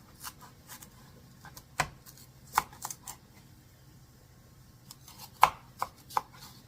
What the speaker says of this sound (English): And I'm going to cut these in half.